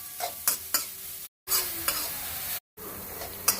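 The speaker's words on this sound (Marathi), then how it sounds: "आता त्यात कांदा घालूया चिरलेला। कांदा हलका गोल्डन होईपर्यंत त्याला परतून घ्यायचा।" Chopped onion sizzles in melted butter while a utensil stirs it against the pan, with soft scraping strokes over a steady close fry broken by two brief silent gaps.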